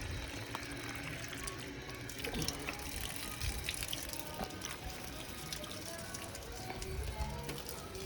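Water running from an expandable garden hose in a backyard garden near a fig tree, a steady, moderately faint rushing and splashing spray with small pattering hits throughout.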